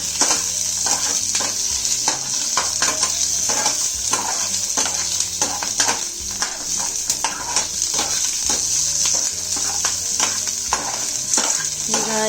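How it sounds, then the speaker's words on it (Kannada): Onions roast in a pan with a constant sizzle, while repeated stirring scrapes and light clinks of a spoon on metal break in at an irregular rhythm. "ಚೆನ್ನಾಗಿ ಸ್ವಲ್ಪ ಈರುಳ್ಳಿ ಸ್ವಲ್ಪ ಕಲರ್ ಚೇಂಜ್ ಆಗೋ ತನಕ ರೋಸ್ಟ್ ಮಾಡ್ಕೊಳ್ಳೋಣ"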